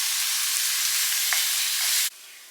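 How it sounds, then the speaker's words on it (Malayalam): Onions for a Kerala-style mutton curry sauté in a pan with a loud, steady sizzle that runs unbroken and then drops abruptly to a softer hiss near the end. "നമ്മുടെ ഉള്ളിയൊക്കെ ഇവിടെ വഴന്നിട്ടുണ്ട്"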